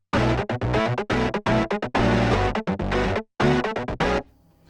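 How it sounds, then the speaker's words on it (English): An unprocessed synth part from a dense mix plays loud, thick chordal stabs in a choppy rhythm with brief gaps, then cuts to a faint tail. "So I'm starting with one of the synth parts, which with nothing on sounds like this."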